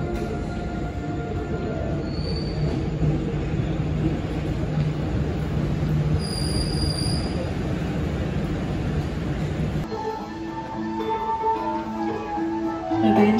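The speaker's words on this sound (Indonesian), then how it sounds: "kereta api Logawa akan tiba di stasiun Lempuyangan" Logawa passenger train arriving at Lempuyangan station, a steady loud rumble of rolling wheels and carriages with a faint high squeal, easing to quieter station ambience near the end.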